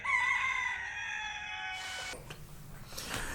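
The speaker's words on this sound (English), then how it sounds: "Immediately, while he was still speaking, a rooster crowed." A rooster crows once, a loud drawn-out harmonic call lasting almost two seconds, followed by a few fainter clucks and rustles in the background.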